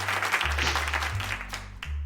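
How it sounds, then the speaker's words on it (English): Applause from a small crowd at a holiday party stream for a game developers' group, a steady patter of clapping lasting a couple of seconds with a low electronic hum underneath. "Let's give the Quizzard a round of applause"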